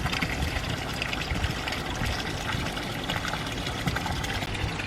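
A floating skimmer runs on a garden pond's surface, giving a steady close wash of trickling, pumping water with no pauses.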